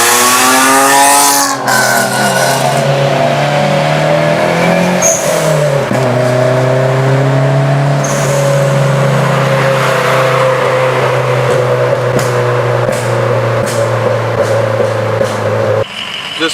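A right-hand drive car pulls away hard from a green light, the engine revving up loudly through rising gear pulls and then holding a strong, steady drone close by until it cuts off near the end.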